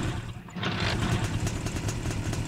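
Hot-wired motorcycle engine in a video game idling with a loud, steady low chug and rapid clattering pulses, heard alone after a brief dip at the start.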